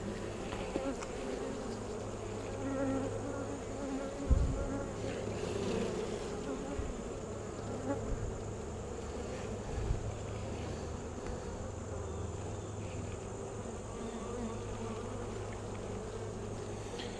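Steady, low insect buzzing from many honeybees at a hive during a hive inspection, a constant drone with faint occasional bumps and knocks close by.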